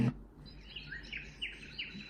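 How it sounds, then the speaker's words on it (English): Birdsong from the nature setting of a baby sound machine: short repeated chirps over a soft steady hiss, faint and even, with no talking. "Birds."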